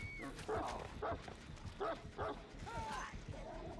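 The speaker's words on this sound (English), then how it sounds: "We try to get the dog off." The Houndmaster's dog in Dead by Daylight gives several short, close barks and yips in a quick uneven series, with a whine in between.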